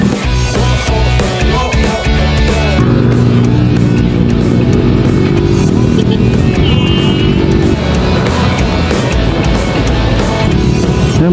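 Several dirt motorcycles, including Honda CRF bikes, ride past on a group trail ride, their engines loud and close and rising and falling as they go by, with a rider's voice briefly heard over them.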